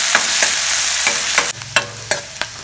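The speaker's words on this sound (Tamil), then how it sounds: "இந்த எண்ணெயில் போட்டு அதை வதக்கிக்கலாம்." Pirandai (adamant creeper) pieces sautéing in sesame oil, a continuous bright sizzle with repeated sharp scrapes and clinks of a stirring spoon against the pan, close and loud with no voices.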